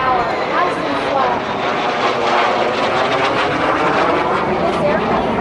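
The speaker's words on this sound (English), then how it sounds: "Here he comes from the right to the left, doing a barrel roll at 370 miles per hour." A T-33 Shooting Star jet at an air show barrel-rolls past from right to left at about 370 mph, its engine a steady, loud roar throughout, with a commentator talking over it on the public address.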